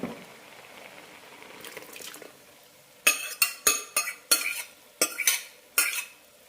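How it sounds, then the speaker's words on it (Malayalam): A spoon scrapes and clatters in a pot as lentils are stirred into drumstick curry, several sharp knocks in quick irregular rhythm after a softer stirring rustle. "നന്നായി മിക്സ് ചെയ്യാം"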